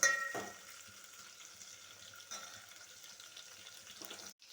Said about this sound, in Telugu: పచ్చిమిర్చి వేసి కొద్దిసేపు వేయించుకోవాలి.